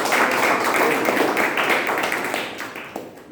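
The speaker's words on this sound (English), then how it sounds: "Can we have a very round of applause for ourselves?" A Toastmasters club meeting audience gives a dense, sustained round of applause that holds steady and then tapers off slightly toward the end.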